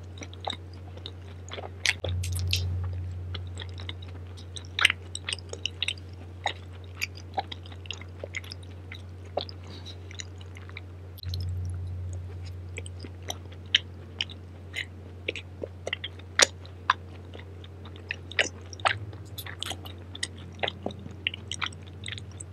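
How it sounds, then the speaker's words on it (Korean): Close, wet chewing and crunching with frequent smacking bites while eating tteokbokki, fried food and sundae, steady and intimate, under a low continuous hum. "너무 쩝쩝댔나 보다"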